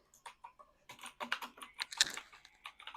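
Rapid keystrokes on a computer keyboard while jotting down trading notes, a close, uneven patter of clicks that speeds up and grows denser toward the middle, with no voice over it.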